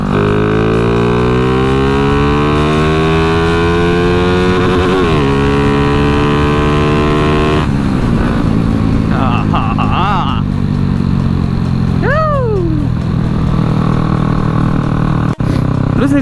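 A motorcycle engine, freshly rebuilt with a new piston and an aftermarket cam, is revved repeatedly by twisting the throttle with the bike stationary, close and loud, pitch rising and falling, while a person talks over it.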